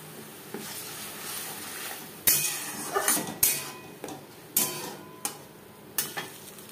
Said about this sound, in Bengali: 3 চামচ রিফাইন্ড অয়েল গরম করে নেওয়ার পর দিয়ে দিলাম টমেটোর পেস্ট